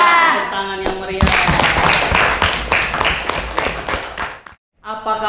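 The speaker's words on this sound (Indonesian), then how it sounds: "Tepuk tangan yang meriah." Audience at a classroom or lecture event bursts into loud, dense applause lasting several seconds, fading abruptly at the end as a voice returns.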